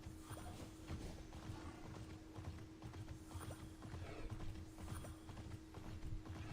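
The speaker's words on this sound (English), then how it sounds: "you can actually hear the horse breathing, and it kind of sounds metal, because the horse is actually meant to be made out of metal" A metal horse from the video game Immortals Fenyx Rising trots at a steady clip-clop rhythm with low breathing underneath, a constant low hum running beneath the hoofbeats, quiet and continuous with no talking.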